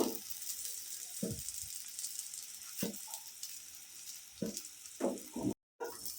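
Radish parathas frying in a pan, a quiet, steady hiss of hot oil with occasional louder spattering crackles and soft scraping, ending in a brief dropout.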